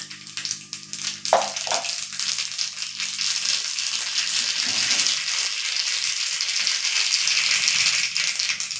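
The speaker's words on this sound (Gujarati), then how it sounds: "હવે એમાં હું 1 ચમચી રાઈ એડ કરીશ." Mustard seeds hit hot oil at about 1.3 s with a sharp burst, then crackle and sizzle steadily and loudly up close for the rest of the clip, with no talking.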